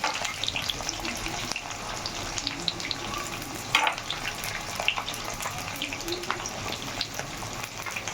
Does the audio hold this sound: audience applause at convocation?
no